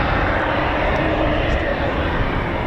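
A Eurofighter Typhoon FGR4 jet at RAF Coningsby produces a loud, sustained broadband roar filling the whole stretch, with a voice faintly present underneath.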